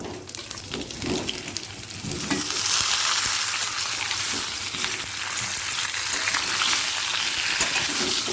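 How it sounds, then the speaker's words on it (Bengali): Sun-dried mango pieces frying in hot oil with panch phoron, a loud steady sizzle rising after a couple of seconds as they are stirred, with faint scraping at the start and no voices. "আমটা তেলের সাথে মিশিয়ে নেব"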